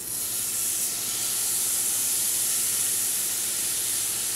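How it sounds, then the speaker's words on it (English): Beef patties sizzle in a hot skillet, giving a continuous, even, fairly loud frying hiss that holds steady throughout with no voices. "we're going to take the patties. Yep. And we're going to put them in the skillet. So we drop the patty."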